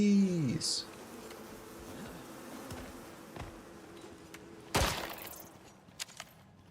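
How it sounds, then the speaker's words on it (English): Buzzing of bees in the survival video game Icarus, a steady insect drone throughout with a brief louder swell near the middle, heard on its own without talk. "Bees."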